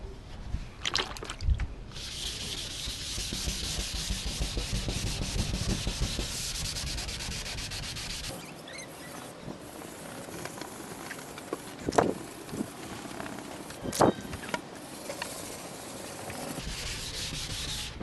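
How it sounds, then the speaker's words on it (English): Steady hand sanding of a surfboard during final sanding before polishing, working from the front of the board back; continuous close-up scratchy rubbing strokes with no talking. "I'm just going to work my way from the front of the board back, sanding out all the previous scratches."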